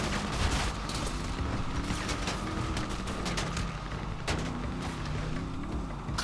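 Sharp gunshot cracks in a GTA 5 roleplay police chase burst out irregularly over a steady, droning car engine, with a few louder booming hits standing out near and loud.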